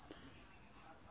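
A multimeter continuity buzzer, checking a microwave oven door switch, sounds a constant thin high-pitched beep tone throughout, fairly faint against quiet room noise.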